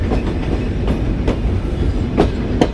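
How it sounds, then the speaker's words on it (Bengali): The Rupsha Express rolls into Bheramara railway station with loud, rhythmic clickety-clack of wheels over rail joints, heard from on board with no voices. "আমরা প্রবেশ করছি ভেড়ামারা রেলওয়ে স্টেশনে"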